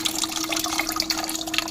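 Hot water runs from a coffee vending machine to rinse its cups, a steady hissing pour with a constant mechanical hum beneath, loud and continuous.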